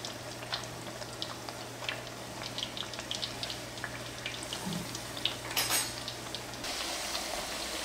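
Steady sizzling of chebureki frying in hot oil on a gas stove, a soft crackling hiss with occasional utensil clinks, no talking.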